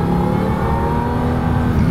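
Supercharged 2000 Jaguar XKR coupe engine revving hard and steadily, a loud, close, continuous throaty roar with no voices over it.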